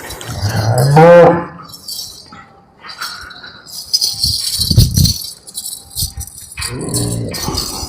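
Cows offered for sale moo loudly nearby, one long deep low at the start followed by further lows, with chains or bells rattling and clinking between calls.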